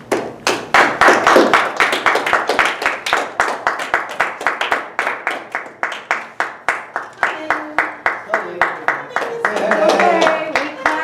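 An audience at a club election evening claps hands in a steady, rhythmic beat, loud and close, keeping time for several seconds while voices talk and cheer over it.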